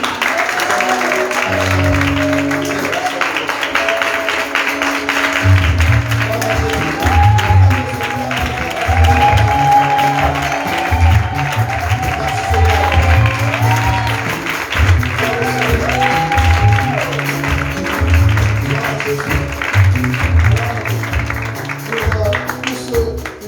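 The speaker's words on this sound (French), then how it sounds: "Je voudrais qu'on acclame notre Dieu" A church congregation claps and acclaims God at a service, with sustained applause and crowd voices over a rhythmic musical backing for much of the span.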